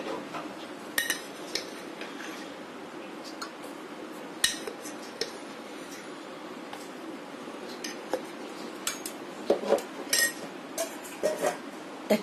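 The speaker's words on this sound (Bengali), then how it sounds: "আমি হুইস্কি দিয়ে ভালো করে মিশিয়ে নিয়েছি" Whisk clinking against a bowl while cornflour, sugar and milk mixture for an Oreo dessert is stirred, with irregular light metallic ticks and taps over a soft continuous swish, close and fairly quiet.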